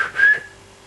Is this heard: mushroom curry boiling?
no